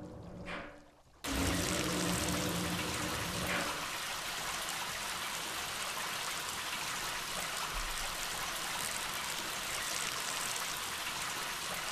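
Running water from a tap or stream in The Sexy Brutale, a loud, steady pouring rush that starts suddenly after a brief quieter moment and continues evenly throughout.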